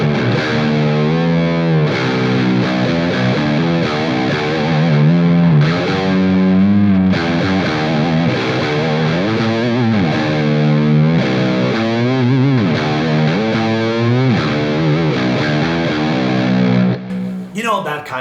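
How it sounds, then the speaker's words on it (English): An electric guitar in Drop B tuning plays a grungy, heavily distorted riff with bendy, sliding notes, loud and continuous throughout. "the bendiness of that string really invites you to write grunge-like riffs"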